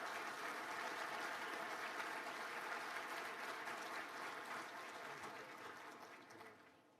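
Sustained audience applause fills a large hall as the Emir of Qatar, Tamim bin Hamad Al Thani, is welcomed at the World Economic Forum annual meeting, a steady dense clapping that slowly tapers off near the end.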